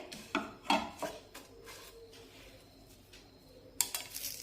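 Chana dal and poha roasting in a pan over medium heat. Faint, sparse clinks and scrapes from a utensil against the pan come in a few scattered taps, with a quiet gap in the middle.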